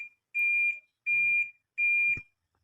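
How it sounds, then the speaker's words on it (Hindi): Three loud, clear electronic beeps from a Haier automatic washing machine signalling the end of its cycle, each a steady high tone about a third of a second long, evenly spaced, with a faint clunk near the last one. "इसमें एक स्पेशल साउंड आएगी, ये देखें हारन बजेगा।"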